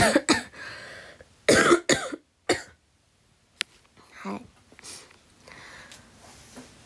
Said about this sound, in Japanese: まあ、まず咳込んでるんですけど